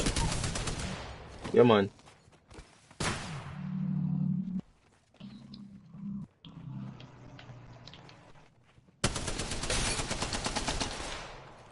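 Automatic gunfire in an Apex Legends match, dense rattling bursts at the start and end with quieter gaps between, while players talk over the action.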